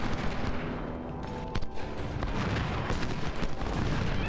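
Battle gunfire from the Ultimate General video game at the Second Battle of Bull Run, a dense, continuous wash of rifle volleys and rumbling cannon fire with a sharp crack near the middle, steady and loud throughout.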